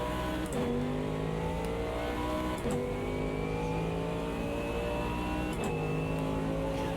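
Mercedes AMG V8 GT3 race car in the Automobilista 2 sim, engine rumbling steadily with rising and falling revs through gear changes and a faint gearbox whine layered above, continuous and close.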